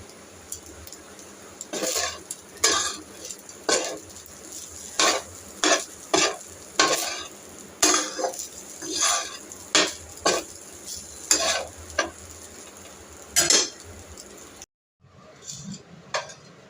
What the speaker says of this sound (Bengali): এখন আমি এখানে এই ডিশটার মধ্যে ভাতগুলো সার্ভ করে নিচ্ছি